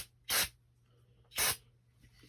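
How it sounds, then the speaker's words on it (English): Aerosol brake cleaner sprayed onto a push mower carburetor in two short, forceful hissing bursts about a second apart, close by, with quiet gaps between. "I have more brake clean. I'm just going to spray it off so it's clear"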